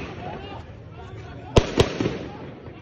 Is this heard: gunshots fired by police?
yes